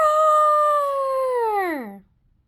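A voice imitates a dinosaur roar in one drawn-out, loud, close howling cry that slides downward in pitch and cuts off abruptly after about two seconds, with no other talk.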